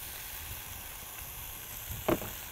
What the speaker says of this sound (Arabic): احطها في الطاسه السخنه دي، تبتدي تبقى تكرمل شويه، واحط معاها زيت زيتون